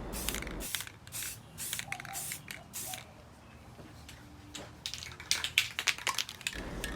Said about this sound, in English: this is the 4th time I'm actually putting another coat or primer on it